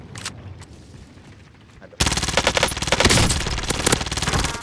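Rapid automatic gunfire in a Call of Duty match bursts in loud and sustained halfway through, following quieter distant shots and faint pops, with a player speaking briefly.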